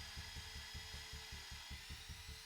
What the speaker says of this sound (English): I'm screwing those in now to the 2x2s